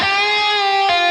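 A virtual rock/metal lead guitar plays a sustained, rigidly even note without palm mutes, giving a robotic, machine-like tone, then shifts abruptly to a new note near the end; loud and alone.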